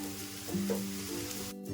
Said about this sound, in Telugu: ఇలాగా ఫ్రై చేస్తున్నా